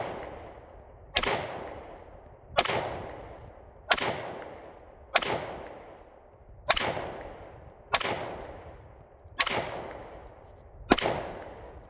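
Nine single gunshots at an outdoor shooting range, spaced evenly about every second and a half. Each loud crack fades into a long echo, and no voices are heard.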